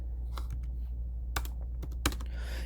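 Several scattered keystrokes on a computer keyboard, close and fairly quiet, in short irregular bursts over a low steady hum.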